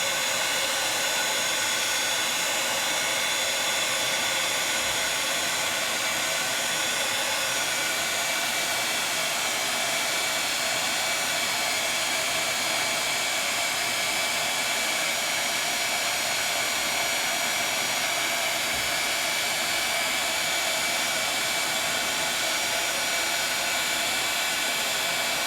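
A craft heat tool blows steadily while melting a second coat of embossing powder, a constant close hiss and fan whir that runs unbroken and evenly loud, with no talking.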